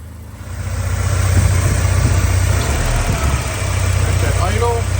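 The engine of a 1984 Porsche 944 runs at idle, a close, steady low rumble that holds for several seconds with someone talking over it.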